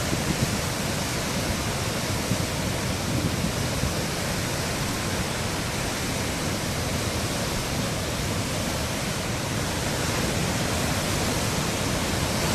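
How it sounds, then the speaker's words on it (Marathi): Water gushes in a dense, unbroken roar from the twelve opened gates of Hatnur dam on the Tapi river in Jalgaon, a loud, even rush that fills the whole stretch without pause. "तब्बल 12 दरवाज्यामधून पाण्याचा विसर्ग सुरू झालाय"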